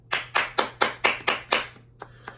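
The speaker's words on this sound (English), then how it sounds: "Hand clap." Seven sharp hand claps in a quick, even rhythm, close and loud, followed by a couple of softer scattered claps as the applause trails off.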